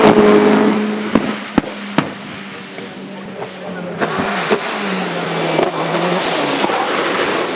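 Manic BT four-wheel-drive hillclimb car racing up the 1100-yard Gurston Down course, a loud engine drone with rising and falling pitch as it climbs, punctuated by sharp cracks and pops, with another engine running beneath.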